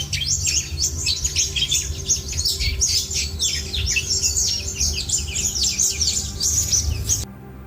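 A cluster of baby birds chirps and squawks continuously in a forest, with a dense, busy run of high calls over a low background hum before it suddenly cuts off.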